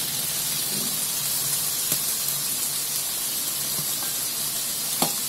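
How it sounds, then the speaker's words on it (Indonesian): Chili peppers fry in oil over a low flame, giving a steady close sizzle with occasional small pops and a few soft stirring clicks, no voices. "Pas goreng cabai gini apinya kecil aja"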